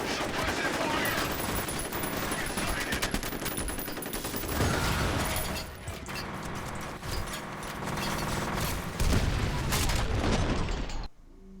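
Video game gunfire lays down suppressive fire in an indoor combat scene, dense and continuous bursts of rapid shots with booms and pops, loud throughout before cutting off abruptly at the end.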